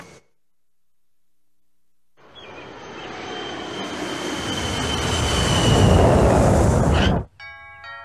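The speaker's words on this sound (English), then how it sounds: "Turn the plane around." A cartoon airplane in The Simpsons swells into a loud, rising roar of engine noise that builds steadily for several seconds, then cuts off abruptly.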